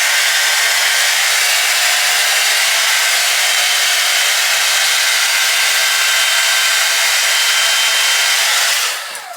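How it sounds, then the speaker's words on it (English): A hair dryer on its cold setting blows steadily onto a glued-down lace wig, a loud, continuous airy rush that holds unbroken for about nine seconds before cutting off at the end. "then I hit it with cold air hair dryer"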